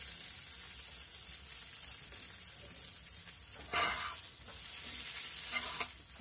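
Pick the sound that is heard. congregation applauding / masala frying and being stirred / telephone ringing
masala frying and being stirred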